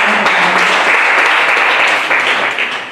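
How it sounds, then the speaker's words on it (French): A congregation at a church gathering applauds loudly and steadily, a dense wash of clapping hands that holds for a few seconds and eases slightly at the end. "Acclame très fort pour les"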